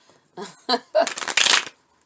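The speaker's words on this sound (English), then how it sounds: "Let me shuffle this once." A deck of tarot cards is shuffled close up, with a few short riffling bursts that build into a longer, louder flutter of cards.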